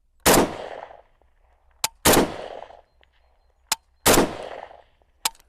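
Three loud AK rifle shots ring out at a slow, even pace, each with a short echoing tail, followed by faint distant clanks from steel targets at 100 metres.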